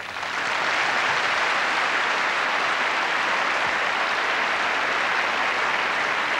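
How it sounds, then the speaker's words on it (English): Sustained applause from a large arena audience at the Eurovision Song Contest, marking the first country to receive 12 votes: a broad, even wash of clapping that swells in quickly and holds steady. "the first country to get 12 votes gets a big round of applause"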